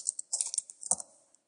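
Short burst of a check number being typed on a computer keyboard during payment entry in accounting software, a quick run of close, light key clicks with brief pauses, no talk.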